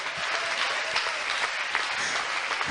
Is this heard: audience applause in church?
yes